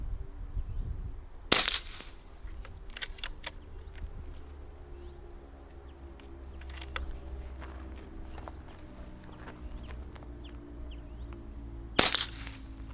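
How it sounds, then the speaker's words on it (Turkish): Rifle fired while testing a Hawke Endurance 30 WA SF scope: two loud, sharp cracks about ten seconds apart, with faint clicks and handling noise between them in a quiet outdoor setting. "Üç atış yapıyorum."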